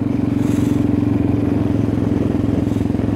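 Motorcycle engine running at low revs while riding slowly on a country road, a steady close putter with a rhythmic pulse and faint clatter throughout, no one speaking.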